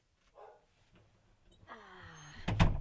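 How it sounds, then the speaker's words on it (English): A dog barks from behind a closed door, the barks muffled and moderately loud, building toward a louder burst near the end over a faint background hum. "I'm just going to close my door for a second because Stuart's barking and I can hear it"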